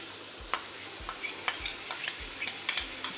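Urad dal stirred in hot oil in a pan, a quiet sizzle with regular scraping strokes of a spoon, close and steady, with no talk.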